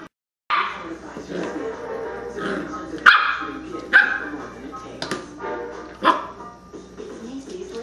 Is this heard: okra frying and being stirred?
no